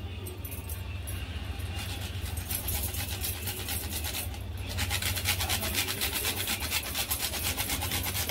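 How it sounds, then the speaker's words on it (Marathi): Nutmeg being grated over sweet wheat porridge, a close, steady rasping scrape that repeats in quick even strokes and grows slightly stronger toward the end, with no talking. "आता अजून याची चव वाढवण्यासाठी आपण थोडंसं याच्यावर जायफळ घालूया किसून."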